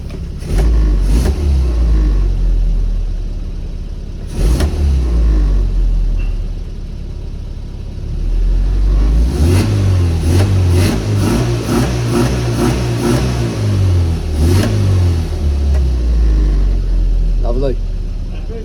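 Car engine revving hard on the throttle during an on-road tuning check, rising and falling through several loud, close surges with a steady mid-range drone, while people talk over it.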